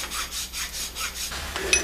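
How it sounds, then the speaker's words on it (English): A triangular prism file rasps across metal while a dovetail is cut, five or six even back-and-forth strokes close up with a steady rubbing rhythm and a small clink at the end. "I'm going to go ahead with my triangular prism file and just put a bit of a dovetail in there"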